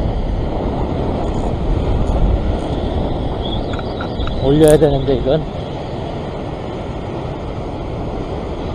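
Ocean waves washing against a rocky shoreline during rock fishing for luderick near Sydney, Australia, a steady broadband wash with wind noise and a brief louder surge midway, under a man's speech.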